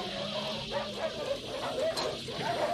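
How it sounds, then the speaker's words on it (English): Dog barks and yips from the 1982 film The Thing, repeated short vocal bursts heard steadily over a dense, continuous soundtrack bed. "That's a clever dog."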